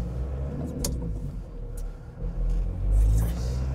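Petrol engine of a Volkswagen T3 van idling and rumbling steadily close by, with a low throb that swells briefly near the end.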